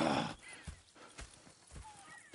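Horses from the video game Red Dead Redemption 2 whinny loudly at the start, followed by a few scattered hoof clops on the ground, close and clear.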